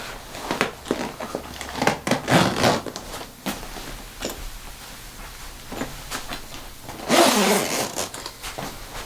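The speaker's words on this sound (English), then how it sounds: "So to make it more streamlined, I am going to zip it up a little bit." A zipper is drawn up on a HydraGun HeatPod infrared sauna blanket, several rasping zip pulls and rustling fabric handling in bursts, close and fairly loud.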